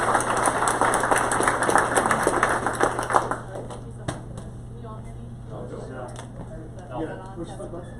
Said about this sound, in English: So everybody please give a big round of applause for Jen Judson.